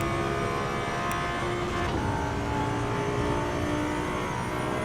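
Race car in Assetto Corsa EVO under braking toward Armberg with traction control off, a continuous whirring engine drone with a brief rising sweep, steady and fairly loud, no speech.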